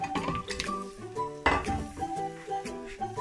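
Small pieces of shark fish, cut and coated with turmeric, drop into a curry pan. The result is a busy run of clinks, knocks and scrapes of metal cookware, close and moderately loud, with no speech.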